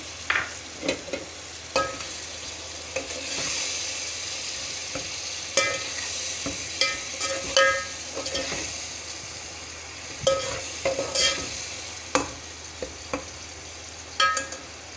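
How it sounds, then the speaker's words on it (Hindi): Garlic and ginger paste frying in hot oil while cooking chicken pulao, a continuous soft sizzle broken by repeated sharp clinks and scrapes of a spoon stirring the pot, close and without speech. "अब मैं इसके अंदर लहसुन अदरक ऐड कर रही हूँ।"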